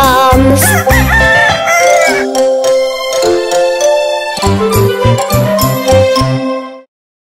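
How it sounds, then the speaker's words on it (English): Rooster crowing in a cheerful children's farm song, loud and bright, layered over bouncy musical accompaniment that continues throughout before ending abruptly. "Hear the cockle-doo of the rooster loud everywhere, like the ringing of alarms."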